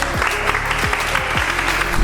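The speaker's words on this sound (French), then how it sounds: "À chaque fois qu'on présentait quelqu'un, tout le monde applaudissait" Each athlete introduced at the 2022 Les Mureaux gathering draws steady, dense clapping from the assembled crowd, loud and close throughout the short stretch, with occasional low thuds beneath it.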